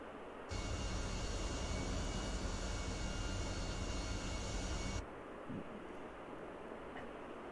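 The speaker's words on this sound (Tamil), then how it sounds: "ஃப்ளைட்டு விழுகுது." An airplane crashes down in GTA 5, a loud, steady roaring engine and wind rush that starts abruptly, holds for about four and a half seconds, then cuts off sharply, leaving quiet background hiss.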